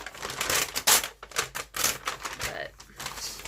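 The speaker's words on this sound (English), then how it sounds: "I have found that it's easier to cover with your ruler and tear" Paper is torn along a ruler's edge for a Christmas junk journal, giving close, rough ripping bursts in several short pulls with a slight pause between them.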